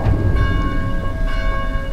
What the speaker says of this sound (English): Maybe you can figure out how to silence those blasted bells.